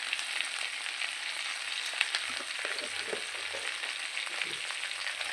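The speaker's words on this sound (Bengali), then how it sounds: "মশলার সঙ্গে ভালো করে কষিয়ে নেব।" Drumsticks sizzle steadily in hot oil with turmeric, chilli powder and salt, a continuous close frying hiss broken now and then by soft scrapes of a stirring spoon, with no voices.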